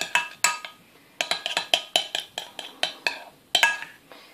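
Slime mixture being stirred with textile hardener in a container, a quick series of sharp clinks and scrapes of utensil against the bowl, irregular and close, with no talk.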